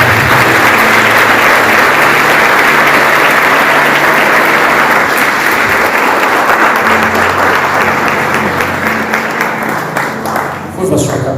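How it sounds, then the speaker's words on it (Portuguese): A church congregation applauds together after a call to praise Jesus, a dense, loud, sustained wall of clapping that thins slightly near the end, with a voice speaking faintly underneath. "Aplaude ao Senhor Jesus"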